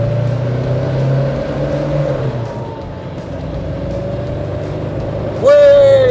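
An Isuzu Panther diesel car with a kick-down, heard as a steady loud engine drone from inside the cabin that holds, then surges in pitch and volume as the engine revs up near the end.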